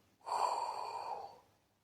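A single long, breathy exhalation, close and soft, lasting about a second before fading out.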